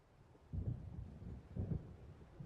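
Low, rolling rumbles of thunder from an approaching storm over the sea in the video game Alan Wake, two distant swells about a second apart fading back into a faint windy hiss.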